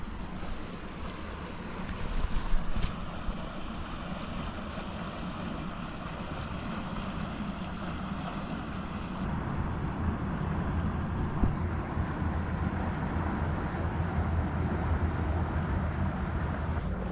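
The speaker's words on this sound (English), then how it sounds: "here's the boat coming here" A boat approaches across cold, open water. Its low, steady rumble slowly builds over the whole stretch, with gusty wind buffeting the microphone and faint lapping of water.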